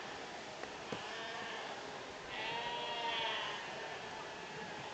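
A sheep gives a drawn-out bleat in the middle of the scene at a livestock show, faint and somewhat distant over steady crowd and hall ambience, with no talk during the call.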